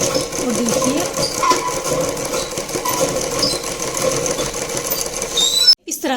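A sewing machine stitches a blouse sleeve in a steady, fast mechanical whir that runs continuously at close range, cutting off briefly near the end, with someone talking over it.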